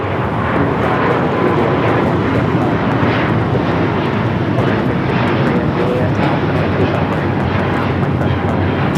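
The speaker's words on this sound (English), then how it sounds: "This is Japan Airlines Flight 15 taking off to Tokyo Haneda on the A350 1000." A Japan Airlines Airbus A350-1000 takes off from LAX with a loud, sustained jet engine roar that stays steady and powerful, with some wind buffeting on the microphone.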